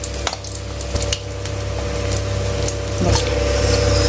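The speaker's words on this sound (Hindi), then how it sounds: "मैंने इसमें तोरी डाली, और जब वो थोड़ी सी फ्राई होगी तो मैंने इसमें पोटैटोस डाल दी।" Ridge gourd and potatoes frying in a pan, a loud steady sizzle close by with a few clinks and knocks of stirring and a constant background hum.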